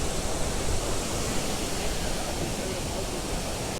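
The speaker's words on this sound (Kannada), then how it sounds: "ಇಂಥ ಒಂದು ಬ್ಯೂಟಿಫುಲ್ ಫಾಲ್ಸ್ ಎದುರು ನಿಂತಿದ್ದೀವಿ" A waterfall deep in a Coorg forest pours in a dense, even roar of falling water, close and loud, holding steady without a break for the whole stretch.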